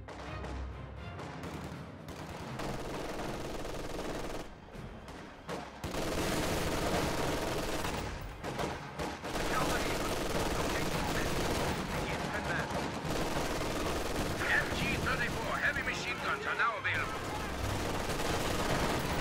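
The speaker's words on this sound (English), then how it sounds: "Riflemen in the house taking a bit of damage from sustained Volksgrenadier fire." Rifle and machine-gun fire crackles through a World War II strategy game as riflemen in a house trade shots with Volksgrenadiers. Dense, sustained bursts of battle noise with brief lulls, sometimes with a voice over it.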